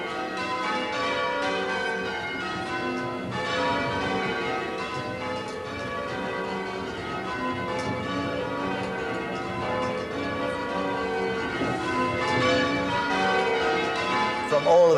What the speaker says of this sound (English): bells are ringing all over the United Kingdom, in every part of the United Kingdom right now